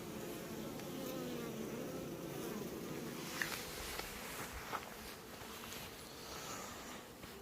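Honeybees swarm and hum around a hive that took in a new swarm a few days ago, with bees now dying at its entrance. A steady, dense buzzing carries throughout, with a few faint ticks and knocks.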